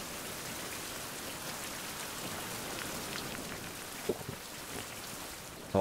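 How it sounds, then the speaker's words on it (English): Rain in the survival video game Survival: Fountain of Youth, a steady hiss of raindrops pattering on surfaces, even and moderately loud, with a couple of brief soft knocks near the end. "Our whole day is... It's rain."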